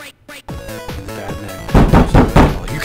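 A door bangs open in the stealth video game The Dark Mod, a few quick sharp knocks and then a burst of louder heavy thuds and rattling.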